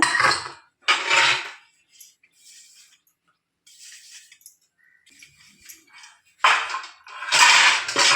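Idli plates and cutlery being handled in a home kitchen while making instant ragi idlis, with clattering metallic clinks in bursts, loud near the start and end, quieter scattered handling in between.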